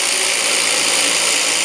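Loud, close ratcheting of a hand ratchet snugging bolts on a 2000-2005 Buick LeSabre during a hood release handle replacement, a dense, continuous clicking burst with no talk.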